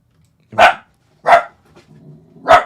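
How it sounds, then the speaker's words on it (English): A dog barks excitedly indoors, three sharp, loud barks spaced under a second apart, with a faint low whine or shuffling between the second and third. "Shishy, be quiet. So dog gets a little bit excited"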